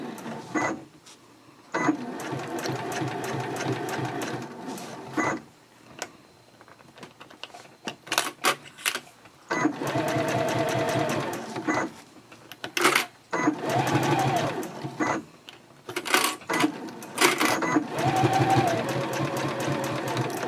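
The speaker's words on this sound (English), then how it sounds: "we're sewing all the way to the bottom and then backstitch at the end" A sewing machine stitching a fabric eyeglass case runs in several steady whirring bursts of a few seconds each, separated by short pauses and brief clicks, close and clear with no talk.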